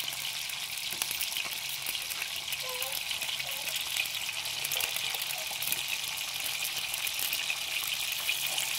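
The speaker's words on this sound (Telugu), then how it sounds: "సలసలా కాగే నూనెలో సలసలా వేసే ముక్కలు చూసారా ఎలా వేగుతుందో" Crab pieces frying in sizzling hot oil in a pan, a steady dense hiss of bubbling that stays loud and continuous throughout, with no one talking.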